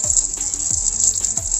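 Water spraying onto the chain of a Suzuki Gixxer SF 250 motorcycle during chain cleaning, a steady close hiss with rhythmic low thumps roughly every half second, no voices.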